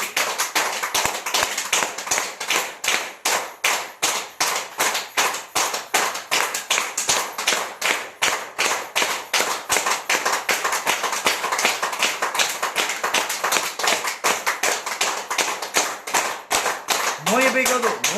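Loud, fast hand clapping repeats steadily for nearly the whole stretch during a tai chi and yoga exercise session, with a voice briefly heard near the end.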